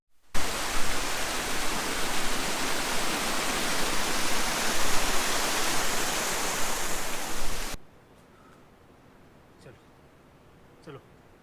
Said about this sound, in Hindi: एवरेस्ट की तरह यहाँ भी खूब हिमालयी झरने देखने को मिलते हैं।